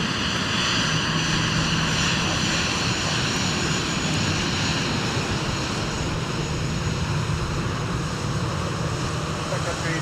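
An airliner taxis along a taxiway at Minneapolis–St. Paul airport toward the runway for departure in winter: a continuous, loud, broadband engine roar and whine holding steady throughout, with no breaks.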